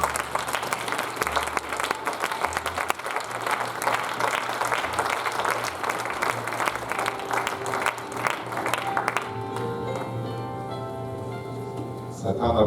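A church congregation applauds and cheers in praise of the Lord, a dense, steady roar of clapping that fills the room for several seconds before thinning out and giving way to softer sound near the end.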